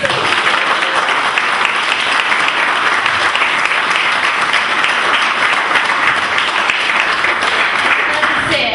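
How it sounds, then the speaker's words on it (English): A studio audience claps steadily and loudly on a Seaside FM radio show, dense continuous applause with voices faintly beneath it. "Let's have a clap."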